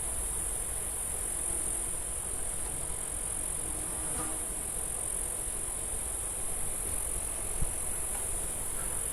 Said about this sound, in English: Got so many bugs going around me.